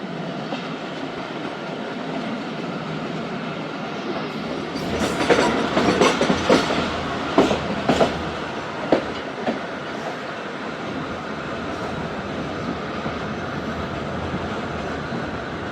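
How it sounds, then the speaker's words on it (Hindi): A train rumbles steadily into Liaquatpur railway station, Pakistan, with rhythmic clickety-clack from the wheels, growing louder in the middle with sharp rail clatter, then settling into a continuous roll. "लियाकतपुर रेलवे स्टेशन इंटर हो रही है ट्रेन।"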